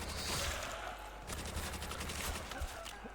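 Rapid bursts of gunfire from Call of Duty: World at War zombies on the Nacht der Untoten map, loud and dense, with rattling shots repeating steadily through the whole stretch.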